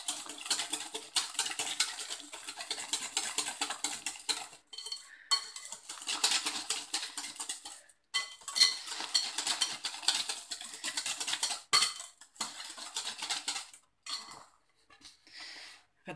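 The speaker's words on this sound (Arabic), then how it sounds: "صافي، غادي نخلط الخليط ديالي على هاد الشكل هذا." Flour being mixed with a yeast mixture in a bowl for soft bread rolls, a busy close scraping and clattering of utensil against bowl that runs steadily with a few short pauses.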